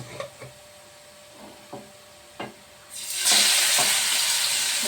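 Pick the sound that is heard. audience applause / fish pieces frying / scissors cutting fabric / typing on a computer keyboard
fish pieces frying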